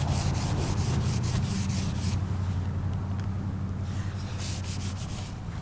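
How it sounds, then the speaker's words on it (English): Scratch remover is wiped off car paint with a steady, close rubbing hiss that continues without a break, with a low hum underneath throughout. "Wipe it off."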